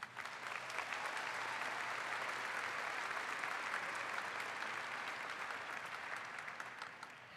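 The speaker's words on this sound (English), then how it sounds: "A big round of applause for these guys" A large crowd gives a sustained round of applause at a high school graduation, a continuous, even roar of clapping lasting several seconds with no one speaking over it.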